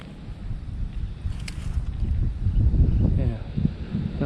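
Strong outdoor wind buffeting the microphone in low rumbling gusts that build louder toward the middle and end, with a person talking faintly over it.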